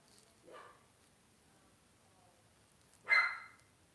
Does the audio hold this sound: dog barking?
yes